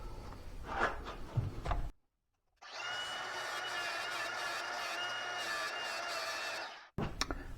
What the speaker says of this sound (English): grind down the inside of the mount just a little bit with my angle grinder